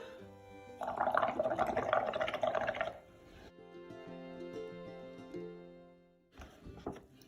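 Air blown through a straw into a watery bubble mix tinted with food dye gurgles and bubbles, a soft burst of wet fizzing that fades into quieter trickling, faint and alone.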